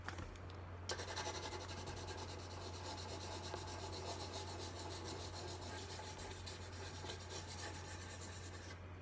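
A colored pencil rubs steadily across paper while shading a seascape drawing, a soft, continuous scratchy rasp held close and quiet with no talk.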